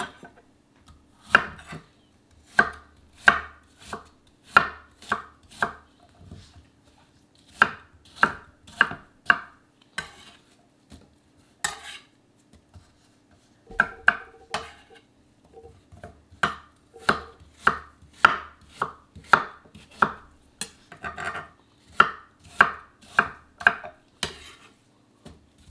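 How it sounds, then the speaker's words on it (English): A knife chopping apples on a cutting board in bursts of quick, crisp, evenly spaced knocks, close and clear against near silence, with short pauses between runs and no talking. "we've got all of our apples chopped up here"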